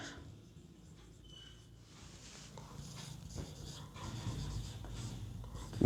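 Pen writing a notice by hand on paper, close soft scratching strokes that grow slightly louder and busier toward the end, with no talk.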